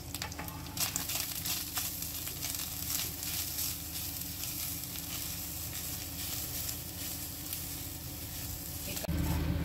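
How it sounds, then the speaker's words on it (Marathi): Freshly grated coconut from a whole coconut roasts in ghee in a pan, a close, steady sizzle and crackle with light stirring scrapes that grows a little louder at the very end, with no speech. "तो आपण छान व्यवस्थित पहिल्यांदा तुपाबरोबर भाजून घेऊया"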